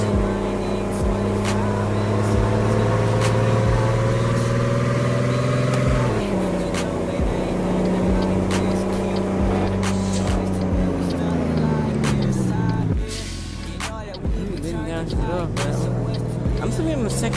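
A Peterbilt truck engine in American Truck Simulator drones loudly in second gear, its low tone climbing steadily as it revs, dipping at gear changes, then rising again, with someone talking over it throughout.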